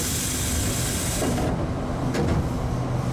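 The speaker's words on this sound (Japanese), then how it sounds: "この列車は対向列車を待たずに発車です" A train departs a station on the Tobu Urban Park Line, rumbling and hissing, with a loud steady wash of mechanical noise and a release of air midway, no voices heard.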